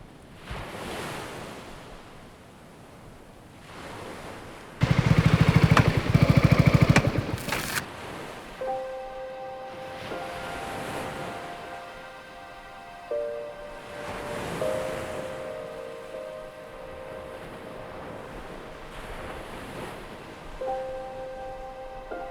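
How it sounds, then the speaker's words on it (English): Ocean surf rolling onto a beach in Bali, a steady wash of waves with a louder, brief surge midway, set against a faint tonal hum in the background; no one speaks. "we're at a beautiful beach, Bali."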